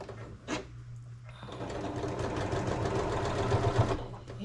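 A sewing machine back stitching a skirt seam, with stitch length set to 3.4, runs as a steady mechanical whir that continues for several seconds after a brief tap at the start. No one speaks.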